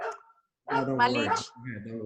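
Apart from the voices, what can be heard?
dogs barking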